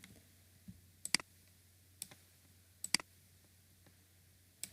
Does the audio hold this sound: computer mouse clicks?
yes